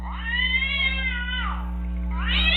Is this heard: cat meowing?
yes